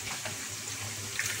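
Water poured into a pot of tinned tomatoes, a brief, steady, splashy stream at close range with no talk.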